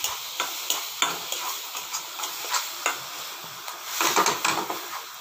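Masala fries in a pan while being stirred, with repeated scraping strokes and soft clicks over a light sizzle, and a busier burst of stirring near the end.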